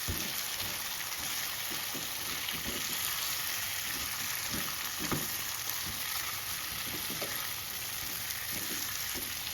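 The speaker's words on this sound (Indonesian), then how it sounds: "Kemudian masukkan ayam yang sudah kita goreng, ini setengah matang menurut aku, dan kita aduk bersamaan supaya bumbunya tercampur." Half-fried chicken pieces are stirred into a thick cooked spice paste, giving a steady close sizzle with soft scraping and stirring taps repeating throughout.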